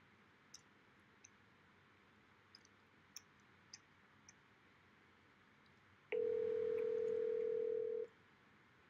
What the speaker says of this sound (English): Now call CEO of Morningstar, Kunal Kapoor.